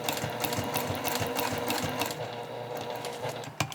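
A sewing machine stitches a leather bag, a steady, fast mechanical whir and needle rattle running continuously and close throughout.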